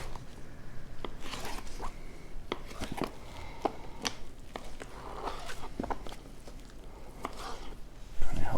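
A flat-sided knife trims fat off a raw brisket, making soft, close slicing and scraping strokes with scattered small clicks over low room noise.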